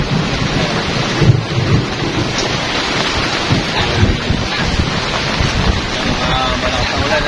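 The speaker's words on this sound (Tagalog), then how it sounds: "Talagang napakalakas ng ulan." Heavy rain pours down steadily in a dense roar, mixed with wind buffeting and low rumbles, continuous throughout.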